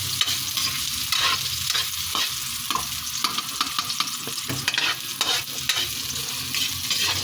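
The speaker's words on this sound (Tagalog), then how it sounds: "Sahog na natin ang ating bawang, sibuyas at luya." Garlic, onion and ginger sauté in a hot pan for chicken tinola, frying steadily with clattering stirs and scrapes throughout, close and fairly loud, with no talking.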